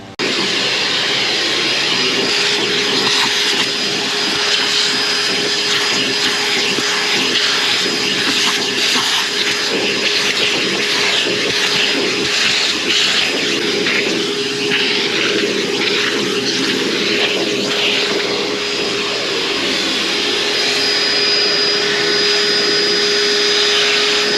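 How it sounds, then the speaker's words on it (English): A vacuum cleaner runs continuously at close range over the pressure-washed carpet of a 1970 Chevy Nova, a loud steady whine and roar with shifting suction noise as the nozzle moves, no voices. "I just want to go ahead and get it vacuumed up so I can get some of this loose debris off of it."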